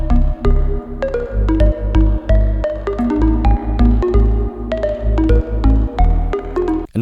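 FM sine-wave synth bass in a house track, sidechained to a kick so it ducks rhythmically on each beat, with bright percussive hits layered above; loud, steady and pumping, with no voices.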